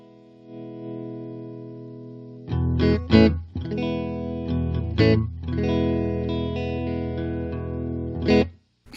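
A clean, unprocessed guitar plays sustained chords and a few plucked notes, with no added echo or reverb.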